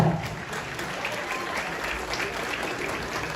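Applause fills an award-show hall, a steady, dense clatter of many hands clapping at full strength with no pause across the whole stretch.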